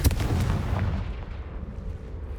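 A Confringo fire spell from Hogwarts Legacy lands as a deep, booming explosion that hits hard at the start and then rumbles away into a fading low tail.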